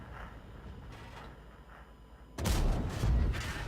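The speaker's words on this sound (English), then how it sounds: "So our artillery is nailing them." Artillery fire in World of Tanks: a quiet, muffled stretch breaks into a loud, heavy burst of booming blasts and rumble partway through that continues to the end.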